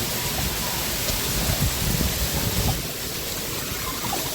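Heavy rain pours down in a dense, continuous hiss, steady and close, with water splashing on surfaces throughout.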